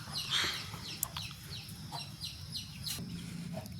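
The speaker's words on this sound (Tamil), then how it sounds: "கோழிங்கெல்லாம் ஒவ்வொன்றா வந்துகிட்டே இருக்குது" Chickens clucking and calling in short scattered bursts, fairly faint, over a steady low rumble of background noise.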